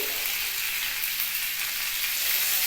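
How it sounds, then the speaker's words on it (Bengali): Salt and turmeric frying in a small amount of oil, a steady close sizzle with a soft hiss throughout and no talking. "নুনটা একবারই দিয়ে দিচ্ছি যেন আমি নুনটা একটু ভেজে করি সঙ্গে দিচ্ছি একটু হলুদ"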